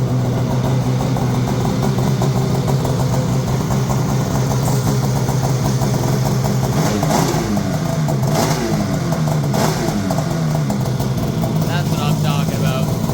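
A 2022 Polaris 850 Khaos Matryx Slash snowmobile with an MBRP race can exhaust idles loudly with a rough, throaty rumble, revving up a few times, with a voice talking over it.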